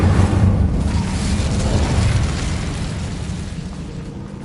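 A loud whooshing burst of flame from an Incendio spell cast in Hogwarts Legacy, a roaring blast that starts strong and slowly fades over several seconds inside an old abandoned room.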